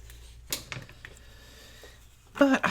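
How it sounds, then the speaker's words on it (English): Scissors snip the frayed edges off an old page torn from a book, giving a few crisp cuts early on and a louder cluster of snips near the end, close and quiet otherwise. "I'm just going to cut off these edges that are kind of"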